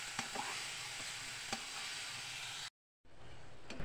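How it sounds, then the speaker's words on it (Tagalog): Steady crackling sizzle of pork frying in oil in a pan for pork binagoongan, close and continuous, with a few faint clicks, then a brief drop to silence before the sizzling resumes. "medyo prinito ko lang siya"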